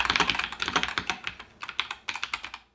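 Rapid clacky keystrokes from a mechanical keyboard, close up, in quick irregular bursts with a brief pause partway through.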